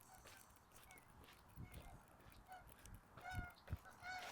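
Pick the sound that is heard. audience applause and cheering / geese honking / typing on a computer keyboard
geese honking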